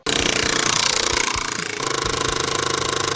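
Bike Pipe exhaust kit on a bicycle, a vibrating reed imitating a dirt bike engine with a rapid buzzing rattle that runs steadily and loud, shifting slightly in pitch midway, no talk.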